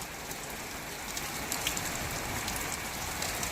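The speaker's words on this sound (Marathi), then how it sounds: "हाय फ्रेंड पाऊस चालू आहे पाऊस खूप छान आहे" Rain falls steadily, a soft even hiss with scattered drops pattering on a surface, no voices present.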